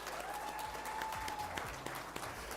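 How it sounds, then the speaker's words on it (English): Faint, distant applause from an audience at a wildlife photography awards ceremony, a soft continuous patter with a thin tonal whine running through it. "Let's clap to take us to the final stage."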